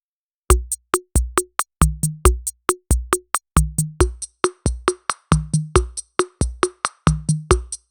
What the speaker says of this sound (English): Thanks to the reverb, you can now clearly hear every individual rim shot.